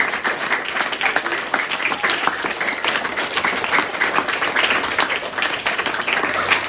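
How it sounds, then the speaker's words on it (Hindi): Audience applause at a spiritual talk, a dense steady roar of many hands clapping continuously and loudly throughout, with no voices over it. "क्लैपिंग चलती रहनी चाहिए, जितनी क्लैपिंग कर सकते हो उतनी कर लो।"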